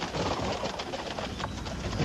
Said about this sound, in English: All right, here's all the birds.